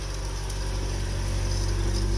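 An old Honda car engine idling after a hard start, with the check engine light on; a close, steady, rumbling idle with a slight regular pulse, no talk.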